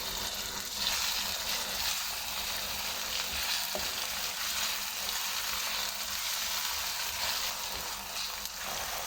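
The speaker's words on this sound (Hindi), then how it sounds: "तीन से 4 मिनट हम अपने तड़के की बुनाई करेंगे, मसाले की बुनाई करेंगे" Chana dal tadka masala with finely chopped tomatoes and spice powder fries in a pan, a continuous moderate sizzle with a soft clink of stirring partway through and no one speaking.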